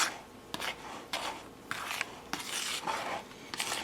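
Flour and shortening being worked together in a bowl for a quiche crust, heard as rough scraping and rasping strokes that come in repeated bursts about every half second, close and fairly quiet.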